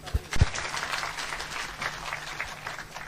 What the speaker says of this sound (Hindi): आप सबके लिए तालियां होनी चाहिए।